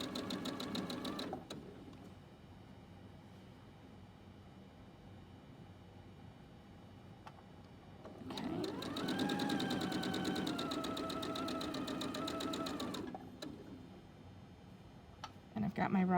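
A sewing machine with a quarter-inch foot stitches a scarf seam in two bursts, a rapid rhythmic whirring, the longer run rising and holding pitch; someone talks in the quieter stretch between.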